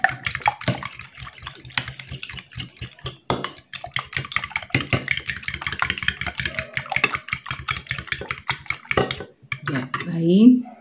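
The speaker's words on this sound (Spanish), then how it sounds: "Vamos a batirlo bien." Batter with chuño potato starch whisked in a bowl for battered cauliflower, a busy run of quick clinking, scraping strokes against the bowl, close and steady, with a brief louder clatter near the end.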